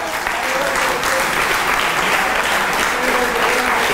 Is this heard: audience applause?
yes